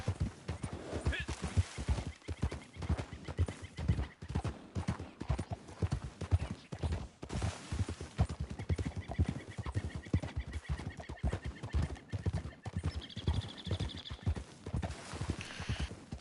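Hooves clip-clop steadily in a quick, even rhythm close by, with occasional faint bird calls in the background.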